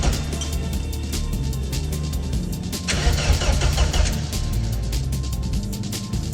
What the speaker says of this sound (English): should we just turn it on again? Just see if it leaks.